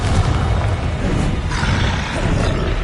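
A fiery Confringo blast spell erupts in Hogwarts Legacy, a loud, sustained booming rumble that rolls on without a break, near and dense with broadband roar.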